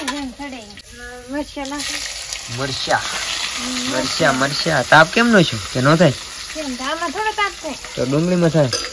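Garlic, onions and chillies sizzle in hot oil, a steady frying hiss that keeps going under a lively conversation between several people speaking over it, close and mid-level in loudness.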